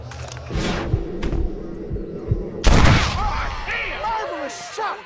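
A single loud, sharp gunshot booms during a Red Dead Redemption shootout, rising out of quieter game sounds and voices speaking around it.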